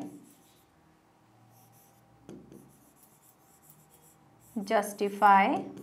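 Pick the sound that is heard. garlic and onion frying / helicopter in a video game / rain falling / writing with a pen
writing with a pen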